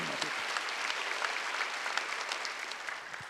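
A church congregation claps together during a Wednesday worship service, a steady dense patter of many hands that holds fairly even and moderately loud for a few seconds.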